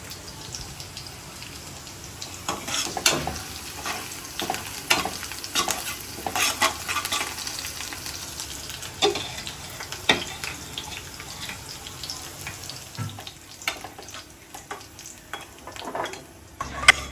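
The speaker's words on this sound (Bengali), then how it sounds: "এই যে এখন ডালটা ফোড়ন দিয়ে এটার মধ্যে হচ্ছে শাকটা ভেজে নেব।" Finely chopped leafy greens fry in oil tempered with dal, a close, crackling sizzle broken by frequent sharp scrapes and taps of a spatula stirring the pan throughout.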